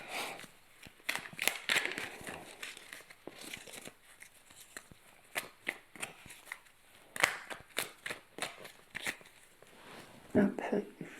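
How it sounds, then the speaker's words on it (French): A deck of playing cards is split and shuffled, producing bursts of quick, crisp riffling and flicking clicks in uneven clusters, fairly close and soft against a quiet background. "on va diviser en deux pour pouvoir battre les cartes"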